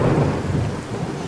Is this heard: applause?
no